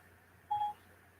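A phone's Siri voice assistant activates with a single short electronic chime, a clean steady tone lasting about a quarter second over quiet room hum.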